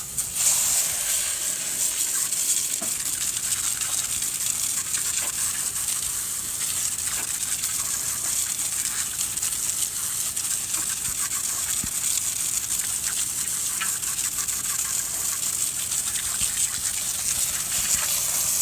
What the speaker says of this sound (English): Alright, so now that we've agitated the wheel, we're going to rinse it off.